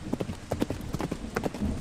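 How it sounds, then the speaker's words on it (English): Hooves clip-clop in a steady galloping rhythm, faint and distant at first, from a horse drawing a carriage along a road in pouring rain, with the hoofbeats cutting through the patter of rainfall. "Faint galloping is heard."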